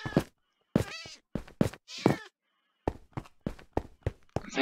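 Video game cat meowing in a run of distinct calls, a few long wavering meows followed by shorter, quicker ones, loud and close with silent gaps between them and no talking.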